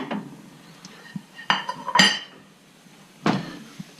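A plate lifted out from a stack of dishes in a home kitchen while an omelette cooks, giving a few sharp ceramic clinks and knocks spread over several seconds, close by with no talking.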